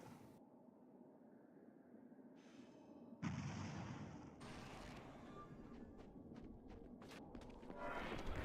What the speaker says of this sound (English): Just waiting for our opening mana missiles to get us started.